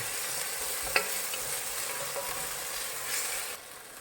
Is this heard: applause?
no